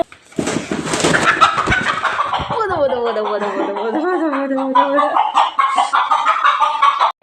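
Loud clucking and cackling from a two-to-three-year-old country hen close by, with a rooster-like drawn-out call in the middle and scratchy rustling underneath.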